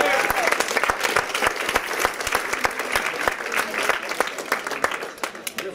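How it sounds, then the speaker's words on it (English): An audience at an evening progressive political conversation event bursts into sustained applause, dense clapping filling the room steadily throughout with a slight easing at the end. "Why don't you give yourselves a round of applause?"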